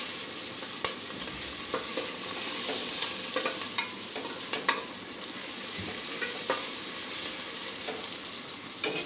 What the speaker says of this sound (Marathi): कांदा सुद्धा थोडा लालसर होईपर्यंत परतून घ्यायचा आहे.